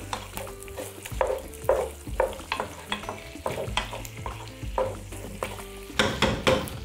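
Caramelized onions stirred and frying in a kazan, with steady sizzling under repeated scraping and stirring strokes, close and fairly loud, no talk.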